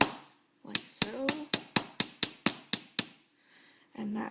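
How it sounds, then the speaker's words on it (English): Metal earring wires are struck by a hammer in a steady series of about ten sharp, close taps, followed by a short pause and a brief rustle. "I'm going to be hammering these like so"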